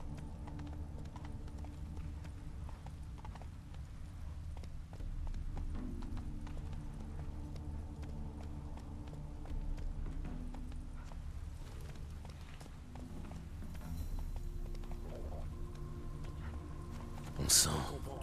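A horse trots in The Witcher 3 with steady, rhythmic clip-clop hoofbeats throughout, joined by game music and voices and a brief louder burst near the end.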